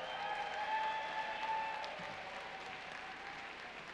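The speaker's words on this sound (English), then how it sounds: "Please give them a round of applause." Audience applause at an evening charity gala, a steady patter of clapping from a seated crowd at moderate level that softens toward the end, with faint background tones and no speech.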